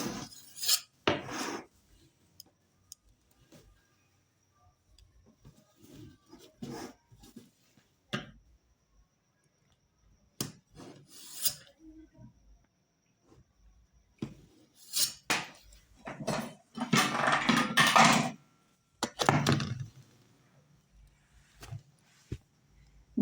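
A knife slicing through a rolled, layered khaja sweet pastry, giving scattered scraping and crisp cutting strokes with pauses between, building to a denser burst of rasping cuts near the end; no voices.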